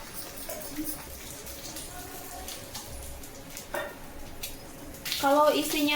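Martabak telur, an egg-filled pastry, frying in hot oil, a soft continuous sizzle and crackle that grows louder and busier near the end, with faint voices underneath.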